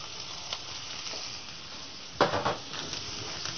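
Scallops sear in a hot pan with a continuous bright sizzle, close and steady, briefly flaring louder with a clatter of pan or utensil partway through; no talk over it.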